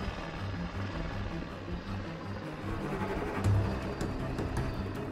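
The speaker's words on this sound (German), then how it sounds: "Wir sitzen im Helikopter, befinden uns an Joris Spot und machen hier einen Teststrung" Helicopter cabin noise from inside a flying helicopter during a medical team operation, a loud continuous engine and rotor rumble with steady throbbing and no talk.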